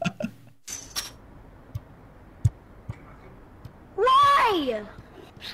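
After a few scattered soft taps and clicks, a single clear meow rises and falls, close and fairly loud.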